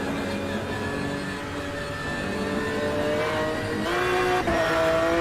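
McLaren race car engine in the Automobilista 2 racing game, pulling away toward Redgate on cold tyres: a continuous, buzzing engine note that holds steady, then climbs sharply in pitch as the revs build near the end.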